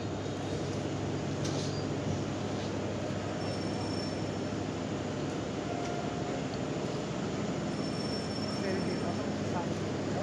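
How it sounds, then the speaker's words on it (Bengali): An intercity train to Dhaka rumbles steadily as it pulls away from Dohazari railway station, a constant low mechanical drone with faint high squeals from the wheels, heard from nearby. "ঢাকার উদ্দেশ্যে যে আন্তনগর ট্রেনটি আপনার ছেড়ে দিচ্ছে"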